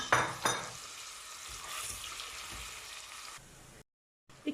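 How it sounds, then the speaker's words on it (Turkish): Steady crackling sizzle of onion and garlic sautéing in butter in a hot pan, with a couple of sharp utensil knocks at the start and a brief gap near the end. "soğanla sarımsakları soteliyorum"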